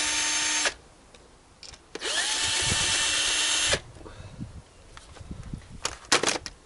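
A power tool runs in short bursts while removing bolts from an impeller housing: two loud whirring runs of a couple seconds each, separated by clunks and handling noises of metal parts being moved.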